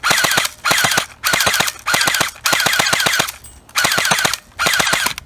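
Close, loud bursts of full-auto fire from a Well D95B MP5 battery-powered airsoft gun shooting light 0.12 g BBs. There are about seven quick rattling strings separated by short pauses, with no voices.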